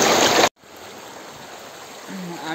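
Water flows down from above into a stream at a fishing spot, heard as a steady soft rushing wash after a brief loud burst of noise at the start.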